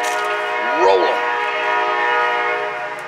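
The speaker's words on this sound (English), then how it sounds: "Train loud, right." A loud train rolls past close by outside near a smoker being packed with apple wood, a steady rumbling drone with a horn blast rising briefly near the start.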